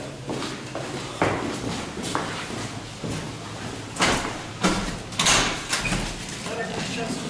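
A sliding door on a 1918 Thrige tram in Copenhagen, Denmark, rumbling and thudding as it moves, with several knocks and bumps over interior noise while people talk nearby.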